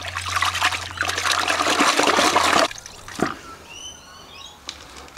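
Water sloshes and pours loudly as an air filter is rinsed out in a bucket, a dense rushing wash that stops abruptly, followed by a few quieter drips and splashes.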